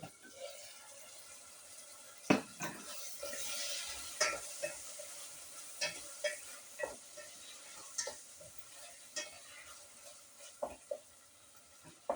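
Tomato and onion frying in a pan, soft steady sizzling with scattered scraping and clinking strokes as the mixture is stirred, close and fairly quiet.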